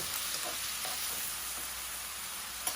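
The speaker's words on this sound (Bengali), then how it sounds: "দিয়ে দিচ্ছি স্বাদ মতো লবণ, 2 টেবিল স্পুন আদা রসুন বাটা। মশলাটাকে ভালোভাবে কষিয়ে নিব।" Onion with ginger-garlic paste and salt frying in a pan as masala, a steady, close hiss of sizzling oil with light stirring scrapes and a small knock at the end.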